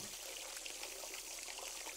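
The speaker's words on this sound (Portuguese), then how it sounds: "Ô Alice, tu podia ter consertado aqui o chuveiro, né?" A shower runs in The Sims video game, a steady hiss of spraying water pouring continuously and evenly throughout.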